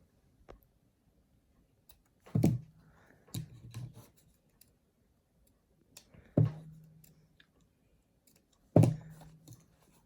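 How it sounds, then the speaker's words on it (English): Scissors snipping thread and a small knot at a trouser hem, several distinct close metallic snips separated by quiet pauses. "Now I'll cut the needle and the little knot that I made."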